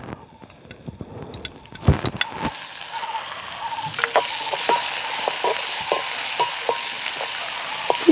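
Small onions hit a hot pan and begin frying, a few clattering knocks giving way to a steady, close sizzle with occasional stirring taps.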